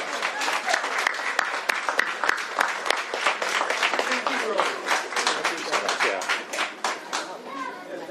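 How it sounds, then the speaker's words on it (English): Audience applause at a Washington governor's bill signing, a dense steady patter of many hands clapping across the whole stretch, fairly loud with a few sharper claps standing out and some voices mixed in. "give them all a round of applause for there"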